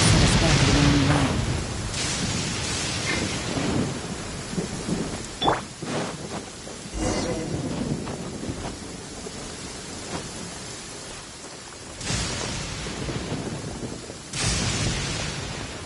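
Rain pours steadily with rolling thunder bursts in Genshin Impact, loud at the start and again near the end, with quieter stretches of drizzle and faint scattered game sounds between.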